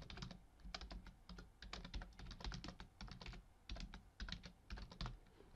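Fast bursts of typing on a computer keyboard, close and crisp, with short pauses between clusters of key clicks and no talking.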